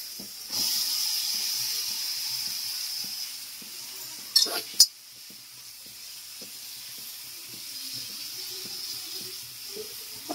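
Boiled chana dal and soybean fry in a spice masala, a gentle sizzle under intermittent stirring taps, with a sharp clatter midway.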